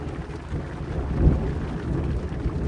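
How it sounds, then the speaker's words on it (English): Heavy rain pours down steadily in the Maasai Mara, with a deep rumble of thunder rolling in midway. "the rain is just not letting up"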